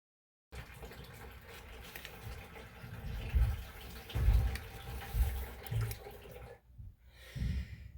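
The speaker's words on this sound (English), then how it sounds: "as you can hear for the water going into the bucket at the other end" Water left in a cut main water pipe drains and splashes into a bucket, a steady running pour with louder gushing surges, followed by a brief pause and a final spurt.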